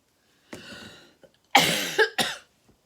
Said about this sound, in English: It's not like me to keep coughing for so long